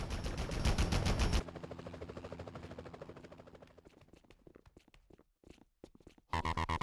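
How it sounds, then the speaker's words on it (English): Rapid bursts of gunfire from the Spider-Man (2000) video game, loud automatic volleys at the start and end with sparser shots and footsteps between. "Enough with the shooting already!"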